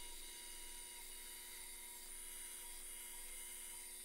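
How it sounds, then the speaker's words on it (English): A drill press bores 5/16 inch holes, giving a steady, continuous high-pitched motor whine with a low rumble that holds evenly throughout, with no voices. "Now I'm drilling 5/16 inch thick holes"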